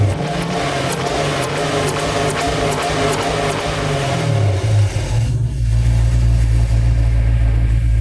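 A car engine breathing through a Flowmaster 40 series stainless exhaust idles with a low burble, then revs up into a loud, deep sustained drone that holds steady close by.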